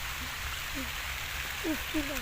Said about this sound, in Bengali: বৃষ্টি হলো একদম বৃষ্টি পড়তেছে